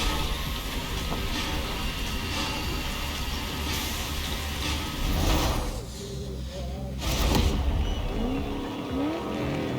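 A train rumbles past alongside a taxi's engine noise in the racing video game Forza Horizon 4, with loud whooshing bursts and some voice-like sounds mixed in.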